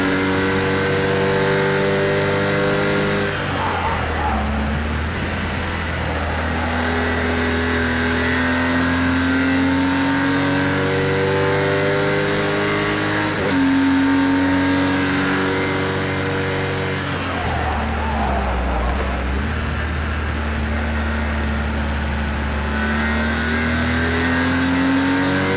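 Porsche Cayman GT4 race car engine in Project CARS 2, loud and continuous, revving up through gears with rising and falling pitch sweeps and brief dips at shifts, no talk.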